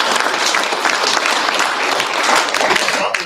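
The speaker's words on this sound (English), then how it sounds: "So a round of applause for him," Loud, close applause fills the room at a drag racing awards ceremony at the PRI show, a dense steady roar of clapping throughout.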